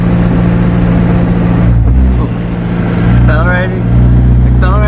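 A car engine hums steadily, with a rough, mid-pitched drone that swells as it picks up speed during a gearbox check; a voice speaks briefly over it.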